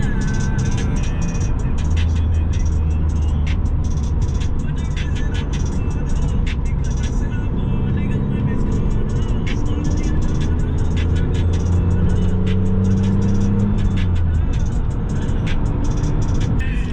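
A 21-year-old car cruises along rural farmland backroads with the air conditioning off, giving a steady, loud low engine drone and road rumble that continues for the whole stretch without pause.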